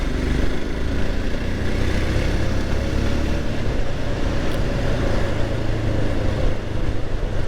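A 2022 Royal Enfield Himalayan Scram 411 motorcycle accelerates steadily to overtake on a road, its engine a loud, continuous drone close by with wind and road noise throughout and no talking.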